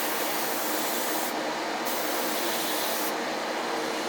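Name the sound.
airbrush spraying paint on model steam locomotive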